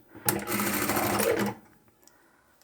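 A sewing machine runs a quick backstitch burst along a quarter-inch seam on a fabric chapstick holder, a rapid, even whir lasting just over a second, then stopping to near quiet with a faint click at the end.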